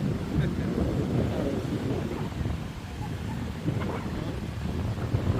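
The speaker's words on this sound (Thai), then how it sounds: "ลมนี่มันก็แรงพออยู่แล้ว" Strong wind at Hua Hin beach buffets the microphone in continuous gusty rumbles, mixed with a soft wash of surf, while a voice talks faintly underneath.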